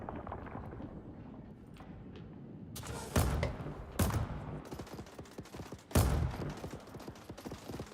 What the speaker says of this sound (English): And people are shooting things outside.